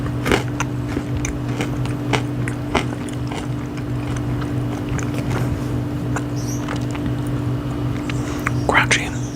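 Crunchy chocolate-covered honeycomb being bitten and chewed close to the microphone, a run of sharp crunches and smaller crackles against a steady low hum.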